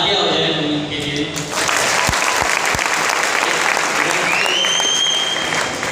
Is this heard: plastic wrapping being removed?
no